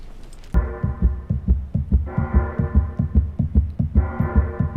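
A loud, steady heartbeat thumps in an even repeating rhythm over a low sustained hum that swells and drops in a video game, with no voices.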